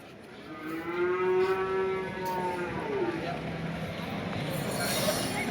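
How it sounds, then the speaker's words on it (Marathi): Cattle and buffalo low in a long, deep moo that rises and falls at the Deulgaon Raja livestock market, with a busy open-air crowd murmuring in the background. "सुंदर अशा म्हशी आहे बैल बाजारामध्ये"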